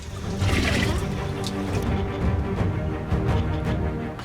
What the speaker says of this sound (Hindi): वहां से जो ये झरना बहता हुआ आप देख रहे हैं